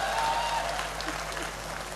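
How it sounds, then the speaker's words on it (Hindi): Audience applause at a Hindi comedy poetry gathering, a steady, dense wash of clapping from a crowd heard throughout at moderate level, with a faint tone briefly present early on. "अरे ढंग ढंग की बजा ले एक बार ताली"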